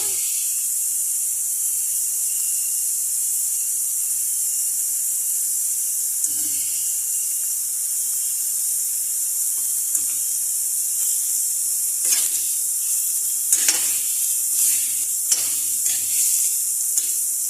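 Shrimp and chili sautéing in a pan for a mixed vegetable dish, a constant bright sizzle with occasional stirring clatter growing more frequent toward the end.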